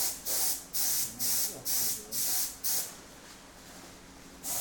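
A detail spray gun painting a lathe gives six rhythmic bursts of loud airy hiss, each about half a second long. A short pause follows, then another burst begins at the end.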